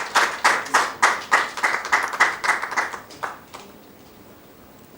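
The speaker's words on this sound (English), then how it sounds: "A big round of applause for sir." Applause at a literary event, a small audience giving a round of clapping for a guest speaker. The claps come loud and close, in a quick uneven rhythm that thins out and stops after about three seconds.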